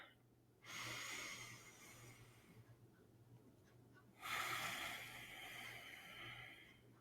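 Deep, audible ujjayi yoga breaths with a whispery throat hiss, two long breaths of about three seconds each, close to the microphone in a quiet room with a low steady hum underneath.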